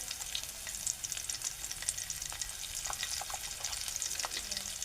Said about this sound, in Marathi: पण कांदा आता ब्राऊन होईपर्यंत परतून घेऊया, लालसर होईपर्यंत.